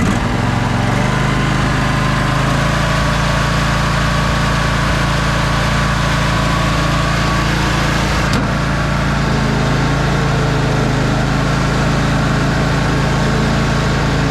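A 1999 Craftsman lawn tractor engine runs steadily at full throttle, a loud, constant drone close by with no talking.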